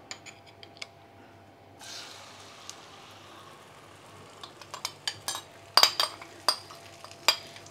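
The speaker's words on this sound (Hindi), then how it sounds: "जो टमाटर अंडे का बैटर हमने तैयार किया था वो डालेंगे" Tomato and egg batter hitting medium-hot oil on a low flame, a soft hiss rising after a quiet start, then a run of sharp spoon clinks and scrapes against the pan as it is spread.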